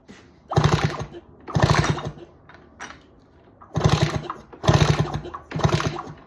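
A Kawasaki KX125 two-stroke dirt bike that won't start gets kicked over, five rhythmic bursts of mechanical churning from the kickstarter turning the engine, each about half a second long, separated by quiet pauses, with no firing.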